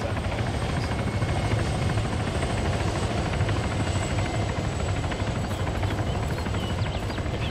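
A helicopter in a military video game gives a loud, continuous rotor thrum and engine drone that stays steady and close for several seconds, with no talking heard.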